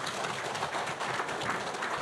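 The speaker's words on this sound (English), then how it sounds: "Another round of applause for my panelists." Conference audience applauding panelists at a university industry event, a fairly faint, even wash of clapping lasting a couple of seconds.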